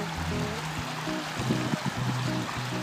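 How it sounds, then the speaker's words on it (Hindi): Water flowing along a village canal past a brick-lined section, a low continuous gurgling rush with faint splashes, close and steady. "ये पीछे से नहर आती है और यहाँ पे ये ईंटों का सोल लगा हुआ है और यहाँ से गुजरते हुए पानी जाता है"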